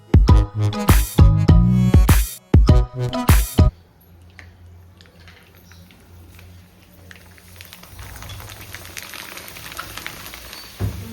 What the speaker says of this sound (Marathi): इकडे गॅसवरती तेल ठेवलं आहे, बघूया किती फुलतोय आपला पापड.